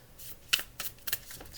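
Tarot cards are shuffled in a few quick riffling bursts, soft papery flicks close up and fairly quiet, with no talking over them.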